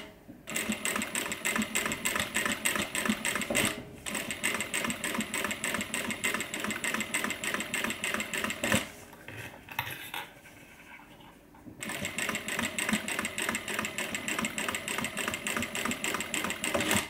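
A sewing machine runs in steady bursts stitching a messenger bag, with a brief pause near four seconds and a quieter stretch around nine to twelve seconds before the motor resumes and backstitches.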